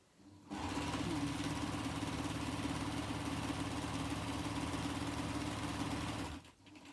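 A Bernina 707 sewing machine runs a straight stitch after a tension adjustment, a steady rapid mechanical whir and clatter that starts abruptly, holds constant for about six seconds close to the microphone, then stops.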